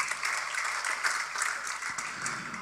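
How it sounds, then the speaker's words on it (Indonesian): Sustained applause from a church congregation during an Indonesian sermon: a dense, even patter of many clapping hands, fairly loud and continuous from start to finish. "Tepuk tangan saudaraku."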